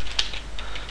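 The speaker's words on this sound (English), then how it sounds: "I'm going to start off by typing void draw and void setup." Quick keystrokes on a computer keyboard while code is typed, a few close, crisp clicks in an irregular rhythm over light background hiss.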